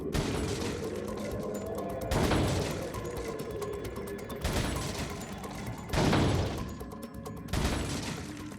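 Gunshots ring out in a Resident Evil 4 shooting gallery: sharp, loud reports come every couple of seconds over a steady game backdrop with mechanical clatter.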